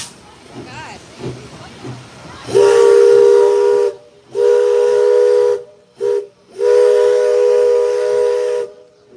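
The Walt Disney World Railroad steam train at Magic Kingdom sounds its whistle loudly and close by in several long blasts with short breaks, a steady hiss of steam underneath, after quieter walkway ambience.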